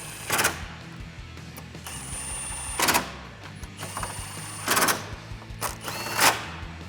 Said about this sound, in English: now we're going to reinstall the 10mm bolts on the top of it.